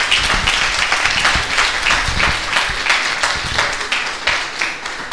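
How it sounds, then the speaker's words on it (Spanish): Audience applause fills a hall at an Ibero-American culture congress, a dense, steady clatter of many hands clapping close and loud for the whole stretch, with no voices rising above it. "Un aplauso."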